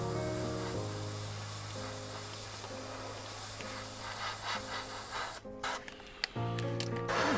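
An airbrush loaded with lots of air and little paint sprays onto a model boxcar, giving a steady airy hiss over a low compressor hum, with brief pauses and bursts near the end.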